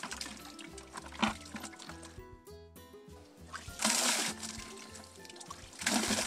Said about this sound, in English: Good pressure for a hand pump.